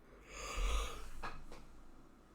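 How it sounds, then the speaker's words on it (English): A single drawn-out yawn, breathy and close, swelling then fading with a faint nasal snort-like tail near the end. "I've been holding that yawn in the entire time."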